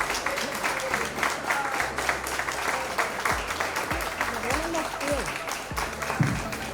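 Audience applause after a conference talk on women in Dominican journalism, a steady dense round of clapping filling the room, with voices speaking over it throughout.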